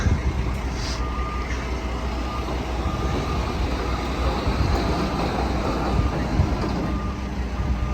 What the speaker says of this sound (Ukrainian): всі машини привозять на таких великих погрузчиках